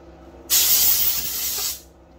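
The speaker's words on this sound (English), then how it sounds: "I got a little brake cleaner. I'm just going to spray it off." Brake cleaner sprayed onto chainsaw carburetor parts during a Husqvarna 385XP carb rebuild: one sharp, close aerosol hiss lasting over a second, then cutting off.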